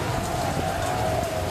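Steady, dense rain hisses loudly and continuously over the Rio Carnaval parade, a constant wash of noise with no pauses.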